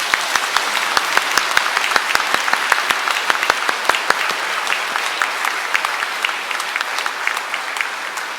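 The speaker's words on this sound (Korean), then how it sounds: "함께 오신 분을 환영하면서 큰 박수 부탁드립니다" A congregation at a Catholic bishop's retirement thanksgiving Mass claps in steady, sustained applause, a dense crowd of hands ringing through the church for over eight seconds.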